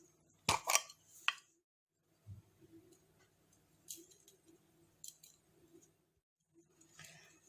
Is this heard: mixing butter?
yes